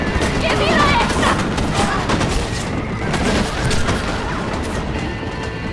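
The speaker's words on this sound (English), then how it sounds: "Kind of being shot at, man." Heavy gunfire in the video game Red Dead Redemption, a dense continuous clatter of shots and impacts with a voice talking over it.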